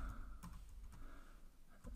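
Quiet, sporadic keystrokes on a computer keyboard, a few soft clicks spaced irregularly against near silence.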